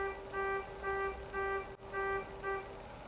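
A car horn honks outside in a run of about five sustained, evenly spaced blasts with short gaps between them, moderately loud with no talking.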